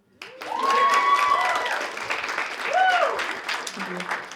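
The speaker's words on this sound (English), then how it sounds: "Can I get some pity applause?" Scattered audience applause breaks out at a stand-up comedy show, rising quickly and holding steady for a few seconds with laughter and cheering mixed in, then thinning toward the end.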